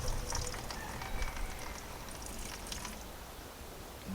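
Water splashes and trickles as it is poured off, a steady low gurgle with faint dripping, close by and unaccompanied by talk.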